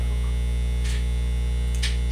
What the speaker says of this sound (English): Your dryer's loud.